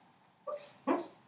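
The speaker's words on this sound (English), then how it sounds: "sleep barking." A dog barks in its sleep in the background, giving two soft, muffled woofs about half a second apart, faint and somewhat distant in a quiet room.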